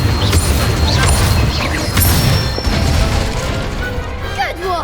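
An Incendio fire spell cast during Hogwarts Legacy wand training gives a loud, dense magical blast with crackling crashes and thuds. Whooshing and chirping effects overlap it, and a voice is heard among the effects.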